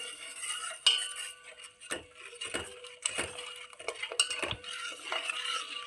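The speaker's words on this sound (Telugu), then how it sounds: "ఎసరు మరిగిపోయిందండి కొంచెం కొంచెంగా ఇందులో వేసి కలుపుకోవాలి" Ragi flour being stirred into boiling water in a pot, with a spoon scraping and clinking against the metal in irregular strokes, close and fairly quiet, with no talking.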